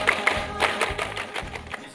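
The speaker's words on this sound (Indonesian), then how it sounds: "2 kali. Tepuk pramuka." A group performing the scout clap, several sharp claps landing in a rhythmic pattern, close and fairly loud, with a brief shout at the start.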